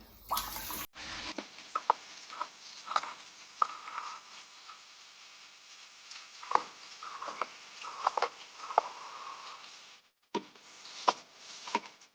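Groceries washed under a running kitchen tap, a continuous close stream of water broken by irregular splashes and handling knocks, with a brief pause near the end before the flow resumes.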